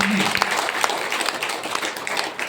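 Audience applause at a seminar, a dense wash of clapping from a crowd that holds steady and loud for a couple of seconds, with a brief voice near the start.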